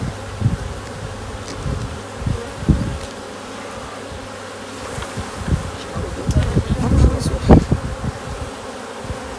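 Honeybees buzz around hive frames, a close, dense droning hum with individual bees swelling and fading past the microphone, mixed with soft knocks and handling sounds.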